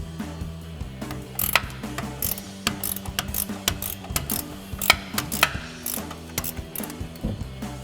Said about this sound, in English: I've got an 18mm ratcheting wrench that I'm gonna use to remove this